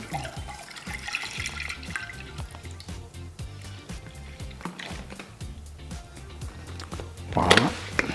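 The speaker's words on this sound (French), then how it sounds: "je mets 1 litre de lait dans ma petite casserole" Milk pouring steadily into a small saucepan, a gurgling trickle with faint splashes, close up, ending with a brief higher clink.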